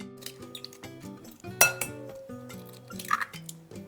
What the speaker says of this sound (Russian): Разбиваю в миску 2 яйца среднего размера.